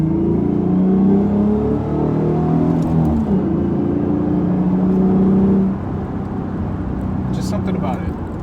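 A 2007 Ford Mustang V6 accelerates onto a freeway, heard from inside as a loud, steady engine drone whose pitch climbs and shifts with gear changes over road rumble, then eases slightly near the end.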